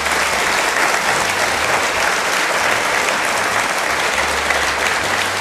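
A live theatre audience at the Giant Dwarf Theatre claps for a panel of speakers, a loud, dense and sustained wash of applause with no break.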